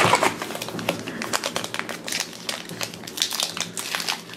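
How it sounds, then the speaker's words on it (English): Crinkling and tearing of a foil wrapper as a pack of Steven Universe trading cards is opened, a continuous crackly rustle with sharp snaps, close and fairly loud, with no talk. "I always enjoy opening trading cards."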